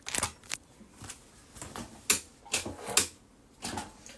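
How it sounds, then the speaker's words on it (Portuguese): A sewing machine runs a light-thread finishing seam around a fabric pot holder in short, close, rhythmic clattering bursts separated by brief pauses. "Vou costurar aqui toda a volta, ó."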